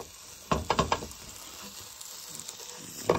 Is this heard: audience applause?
no